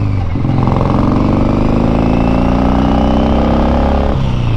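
Custom chopper motorcycle engine running steadily while riding, a loud continuous low rumble with harmonic drone that shifts pitch slightly as the bike moves, close and dominant throughout.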